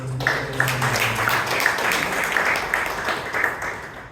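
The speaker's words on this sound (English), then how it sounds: "Let us give a big round of applause to both." Audience clapping at a Toastmasters club meeting in Bangalore, a moderate round of applause from a room of people lasting several seconds, fairly even and unbroken throughout.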